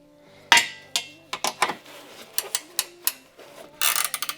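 Socket wrench with a deep drive socket working bolts loose on a Tesla Model Y during a tow hitch install, giving a string of sharp metallic clicks and clanks in irregular bursts, fairly close.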